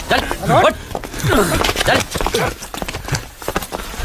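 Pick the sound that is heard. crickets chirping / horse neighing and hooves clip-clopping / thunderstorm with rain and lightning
horse neighing and hooves clip-clopping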